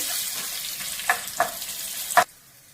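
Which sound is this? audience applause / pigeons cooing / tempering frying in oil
tempering frying in oil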